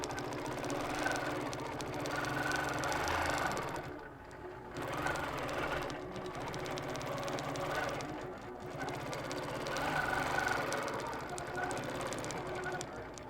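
A long-arm quilting machine stitching with templates, making a rapid, steady mechanical chatter that runs in several bursts with brief pauses between them, close and moderately loud, with some background talk at times.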